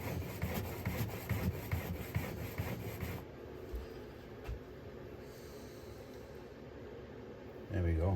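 A wood chisel is rubbed back and forth on a sharpening stone, giving rhythmic scraping strokes for a few seconds, followed by quieter sparse rubbing under a faint hum.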